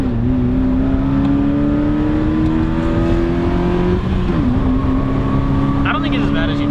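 A daily-driven car is heard while driving after metal shavings caused engine damage, its steady engine drone rising and falling in pitch with a brief dip midway, loud and close throughout.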